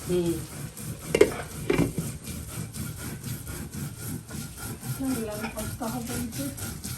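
Potatoes fry with dried churi fish in a pan, giving a continuous close sizzle with scraping stirs and a few clinks, while someone talks over it.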